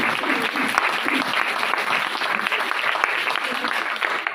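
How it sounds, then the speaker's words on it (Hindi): A crowd at a religious gathering breaks into loud, sustained applause, a dense continuous clapping that fills the space, with voices faintly mixed in. "खुदा बरकत दे भाई के लिए जोरदार तालियां"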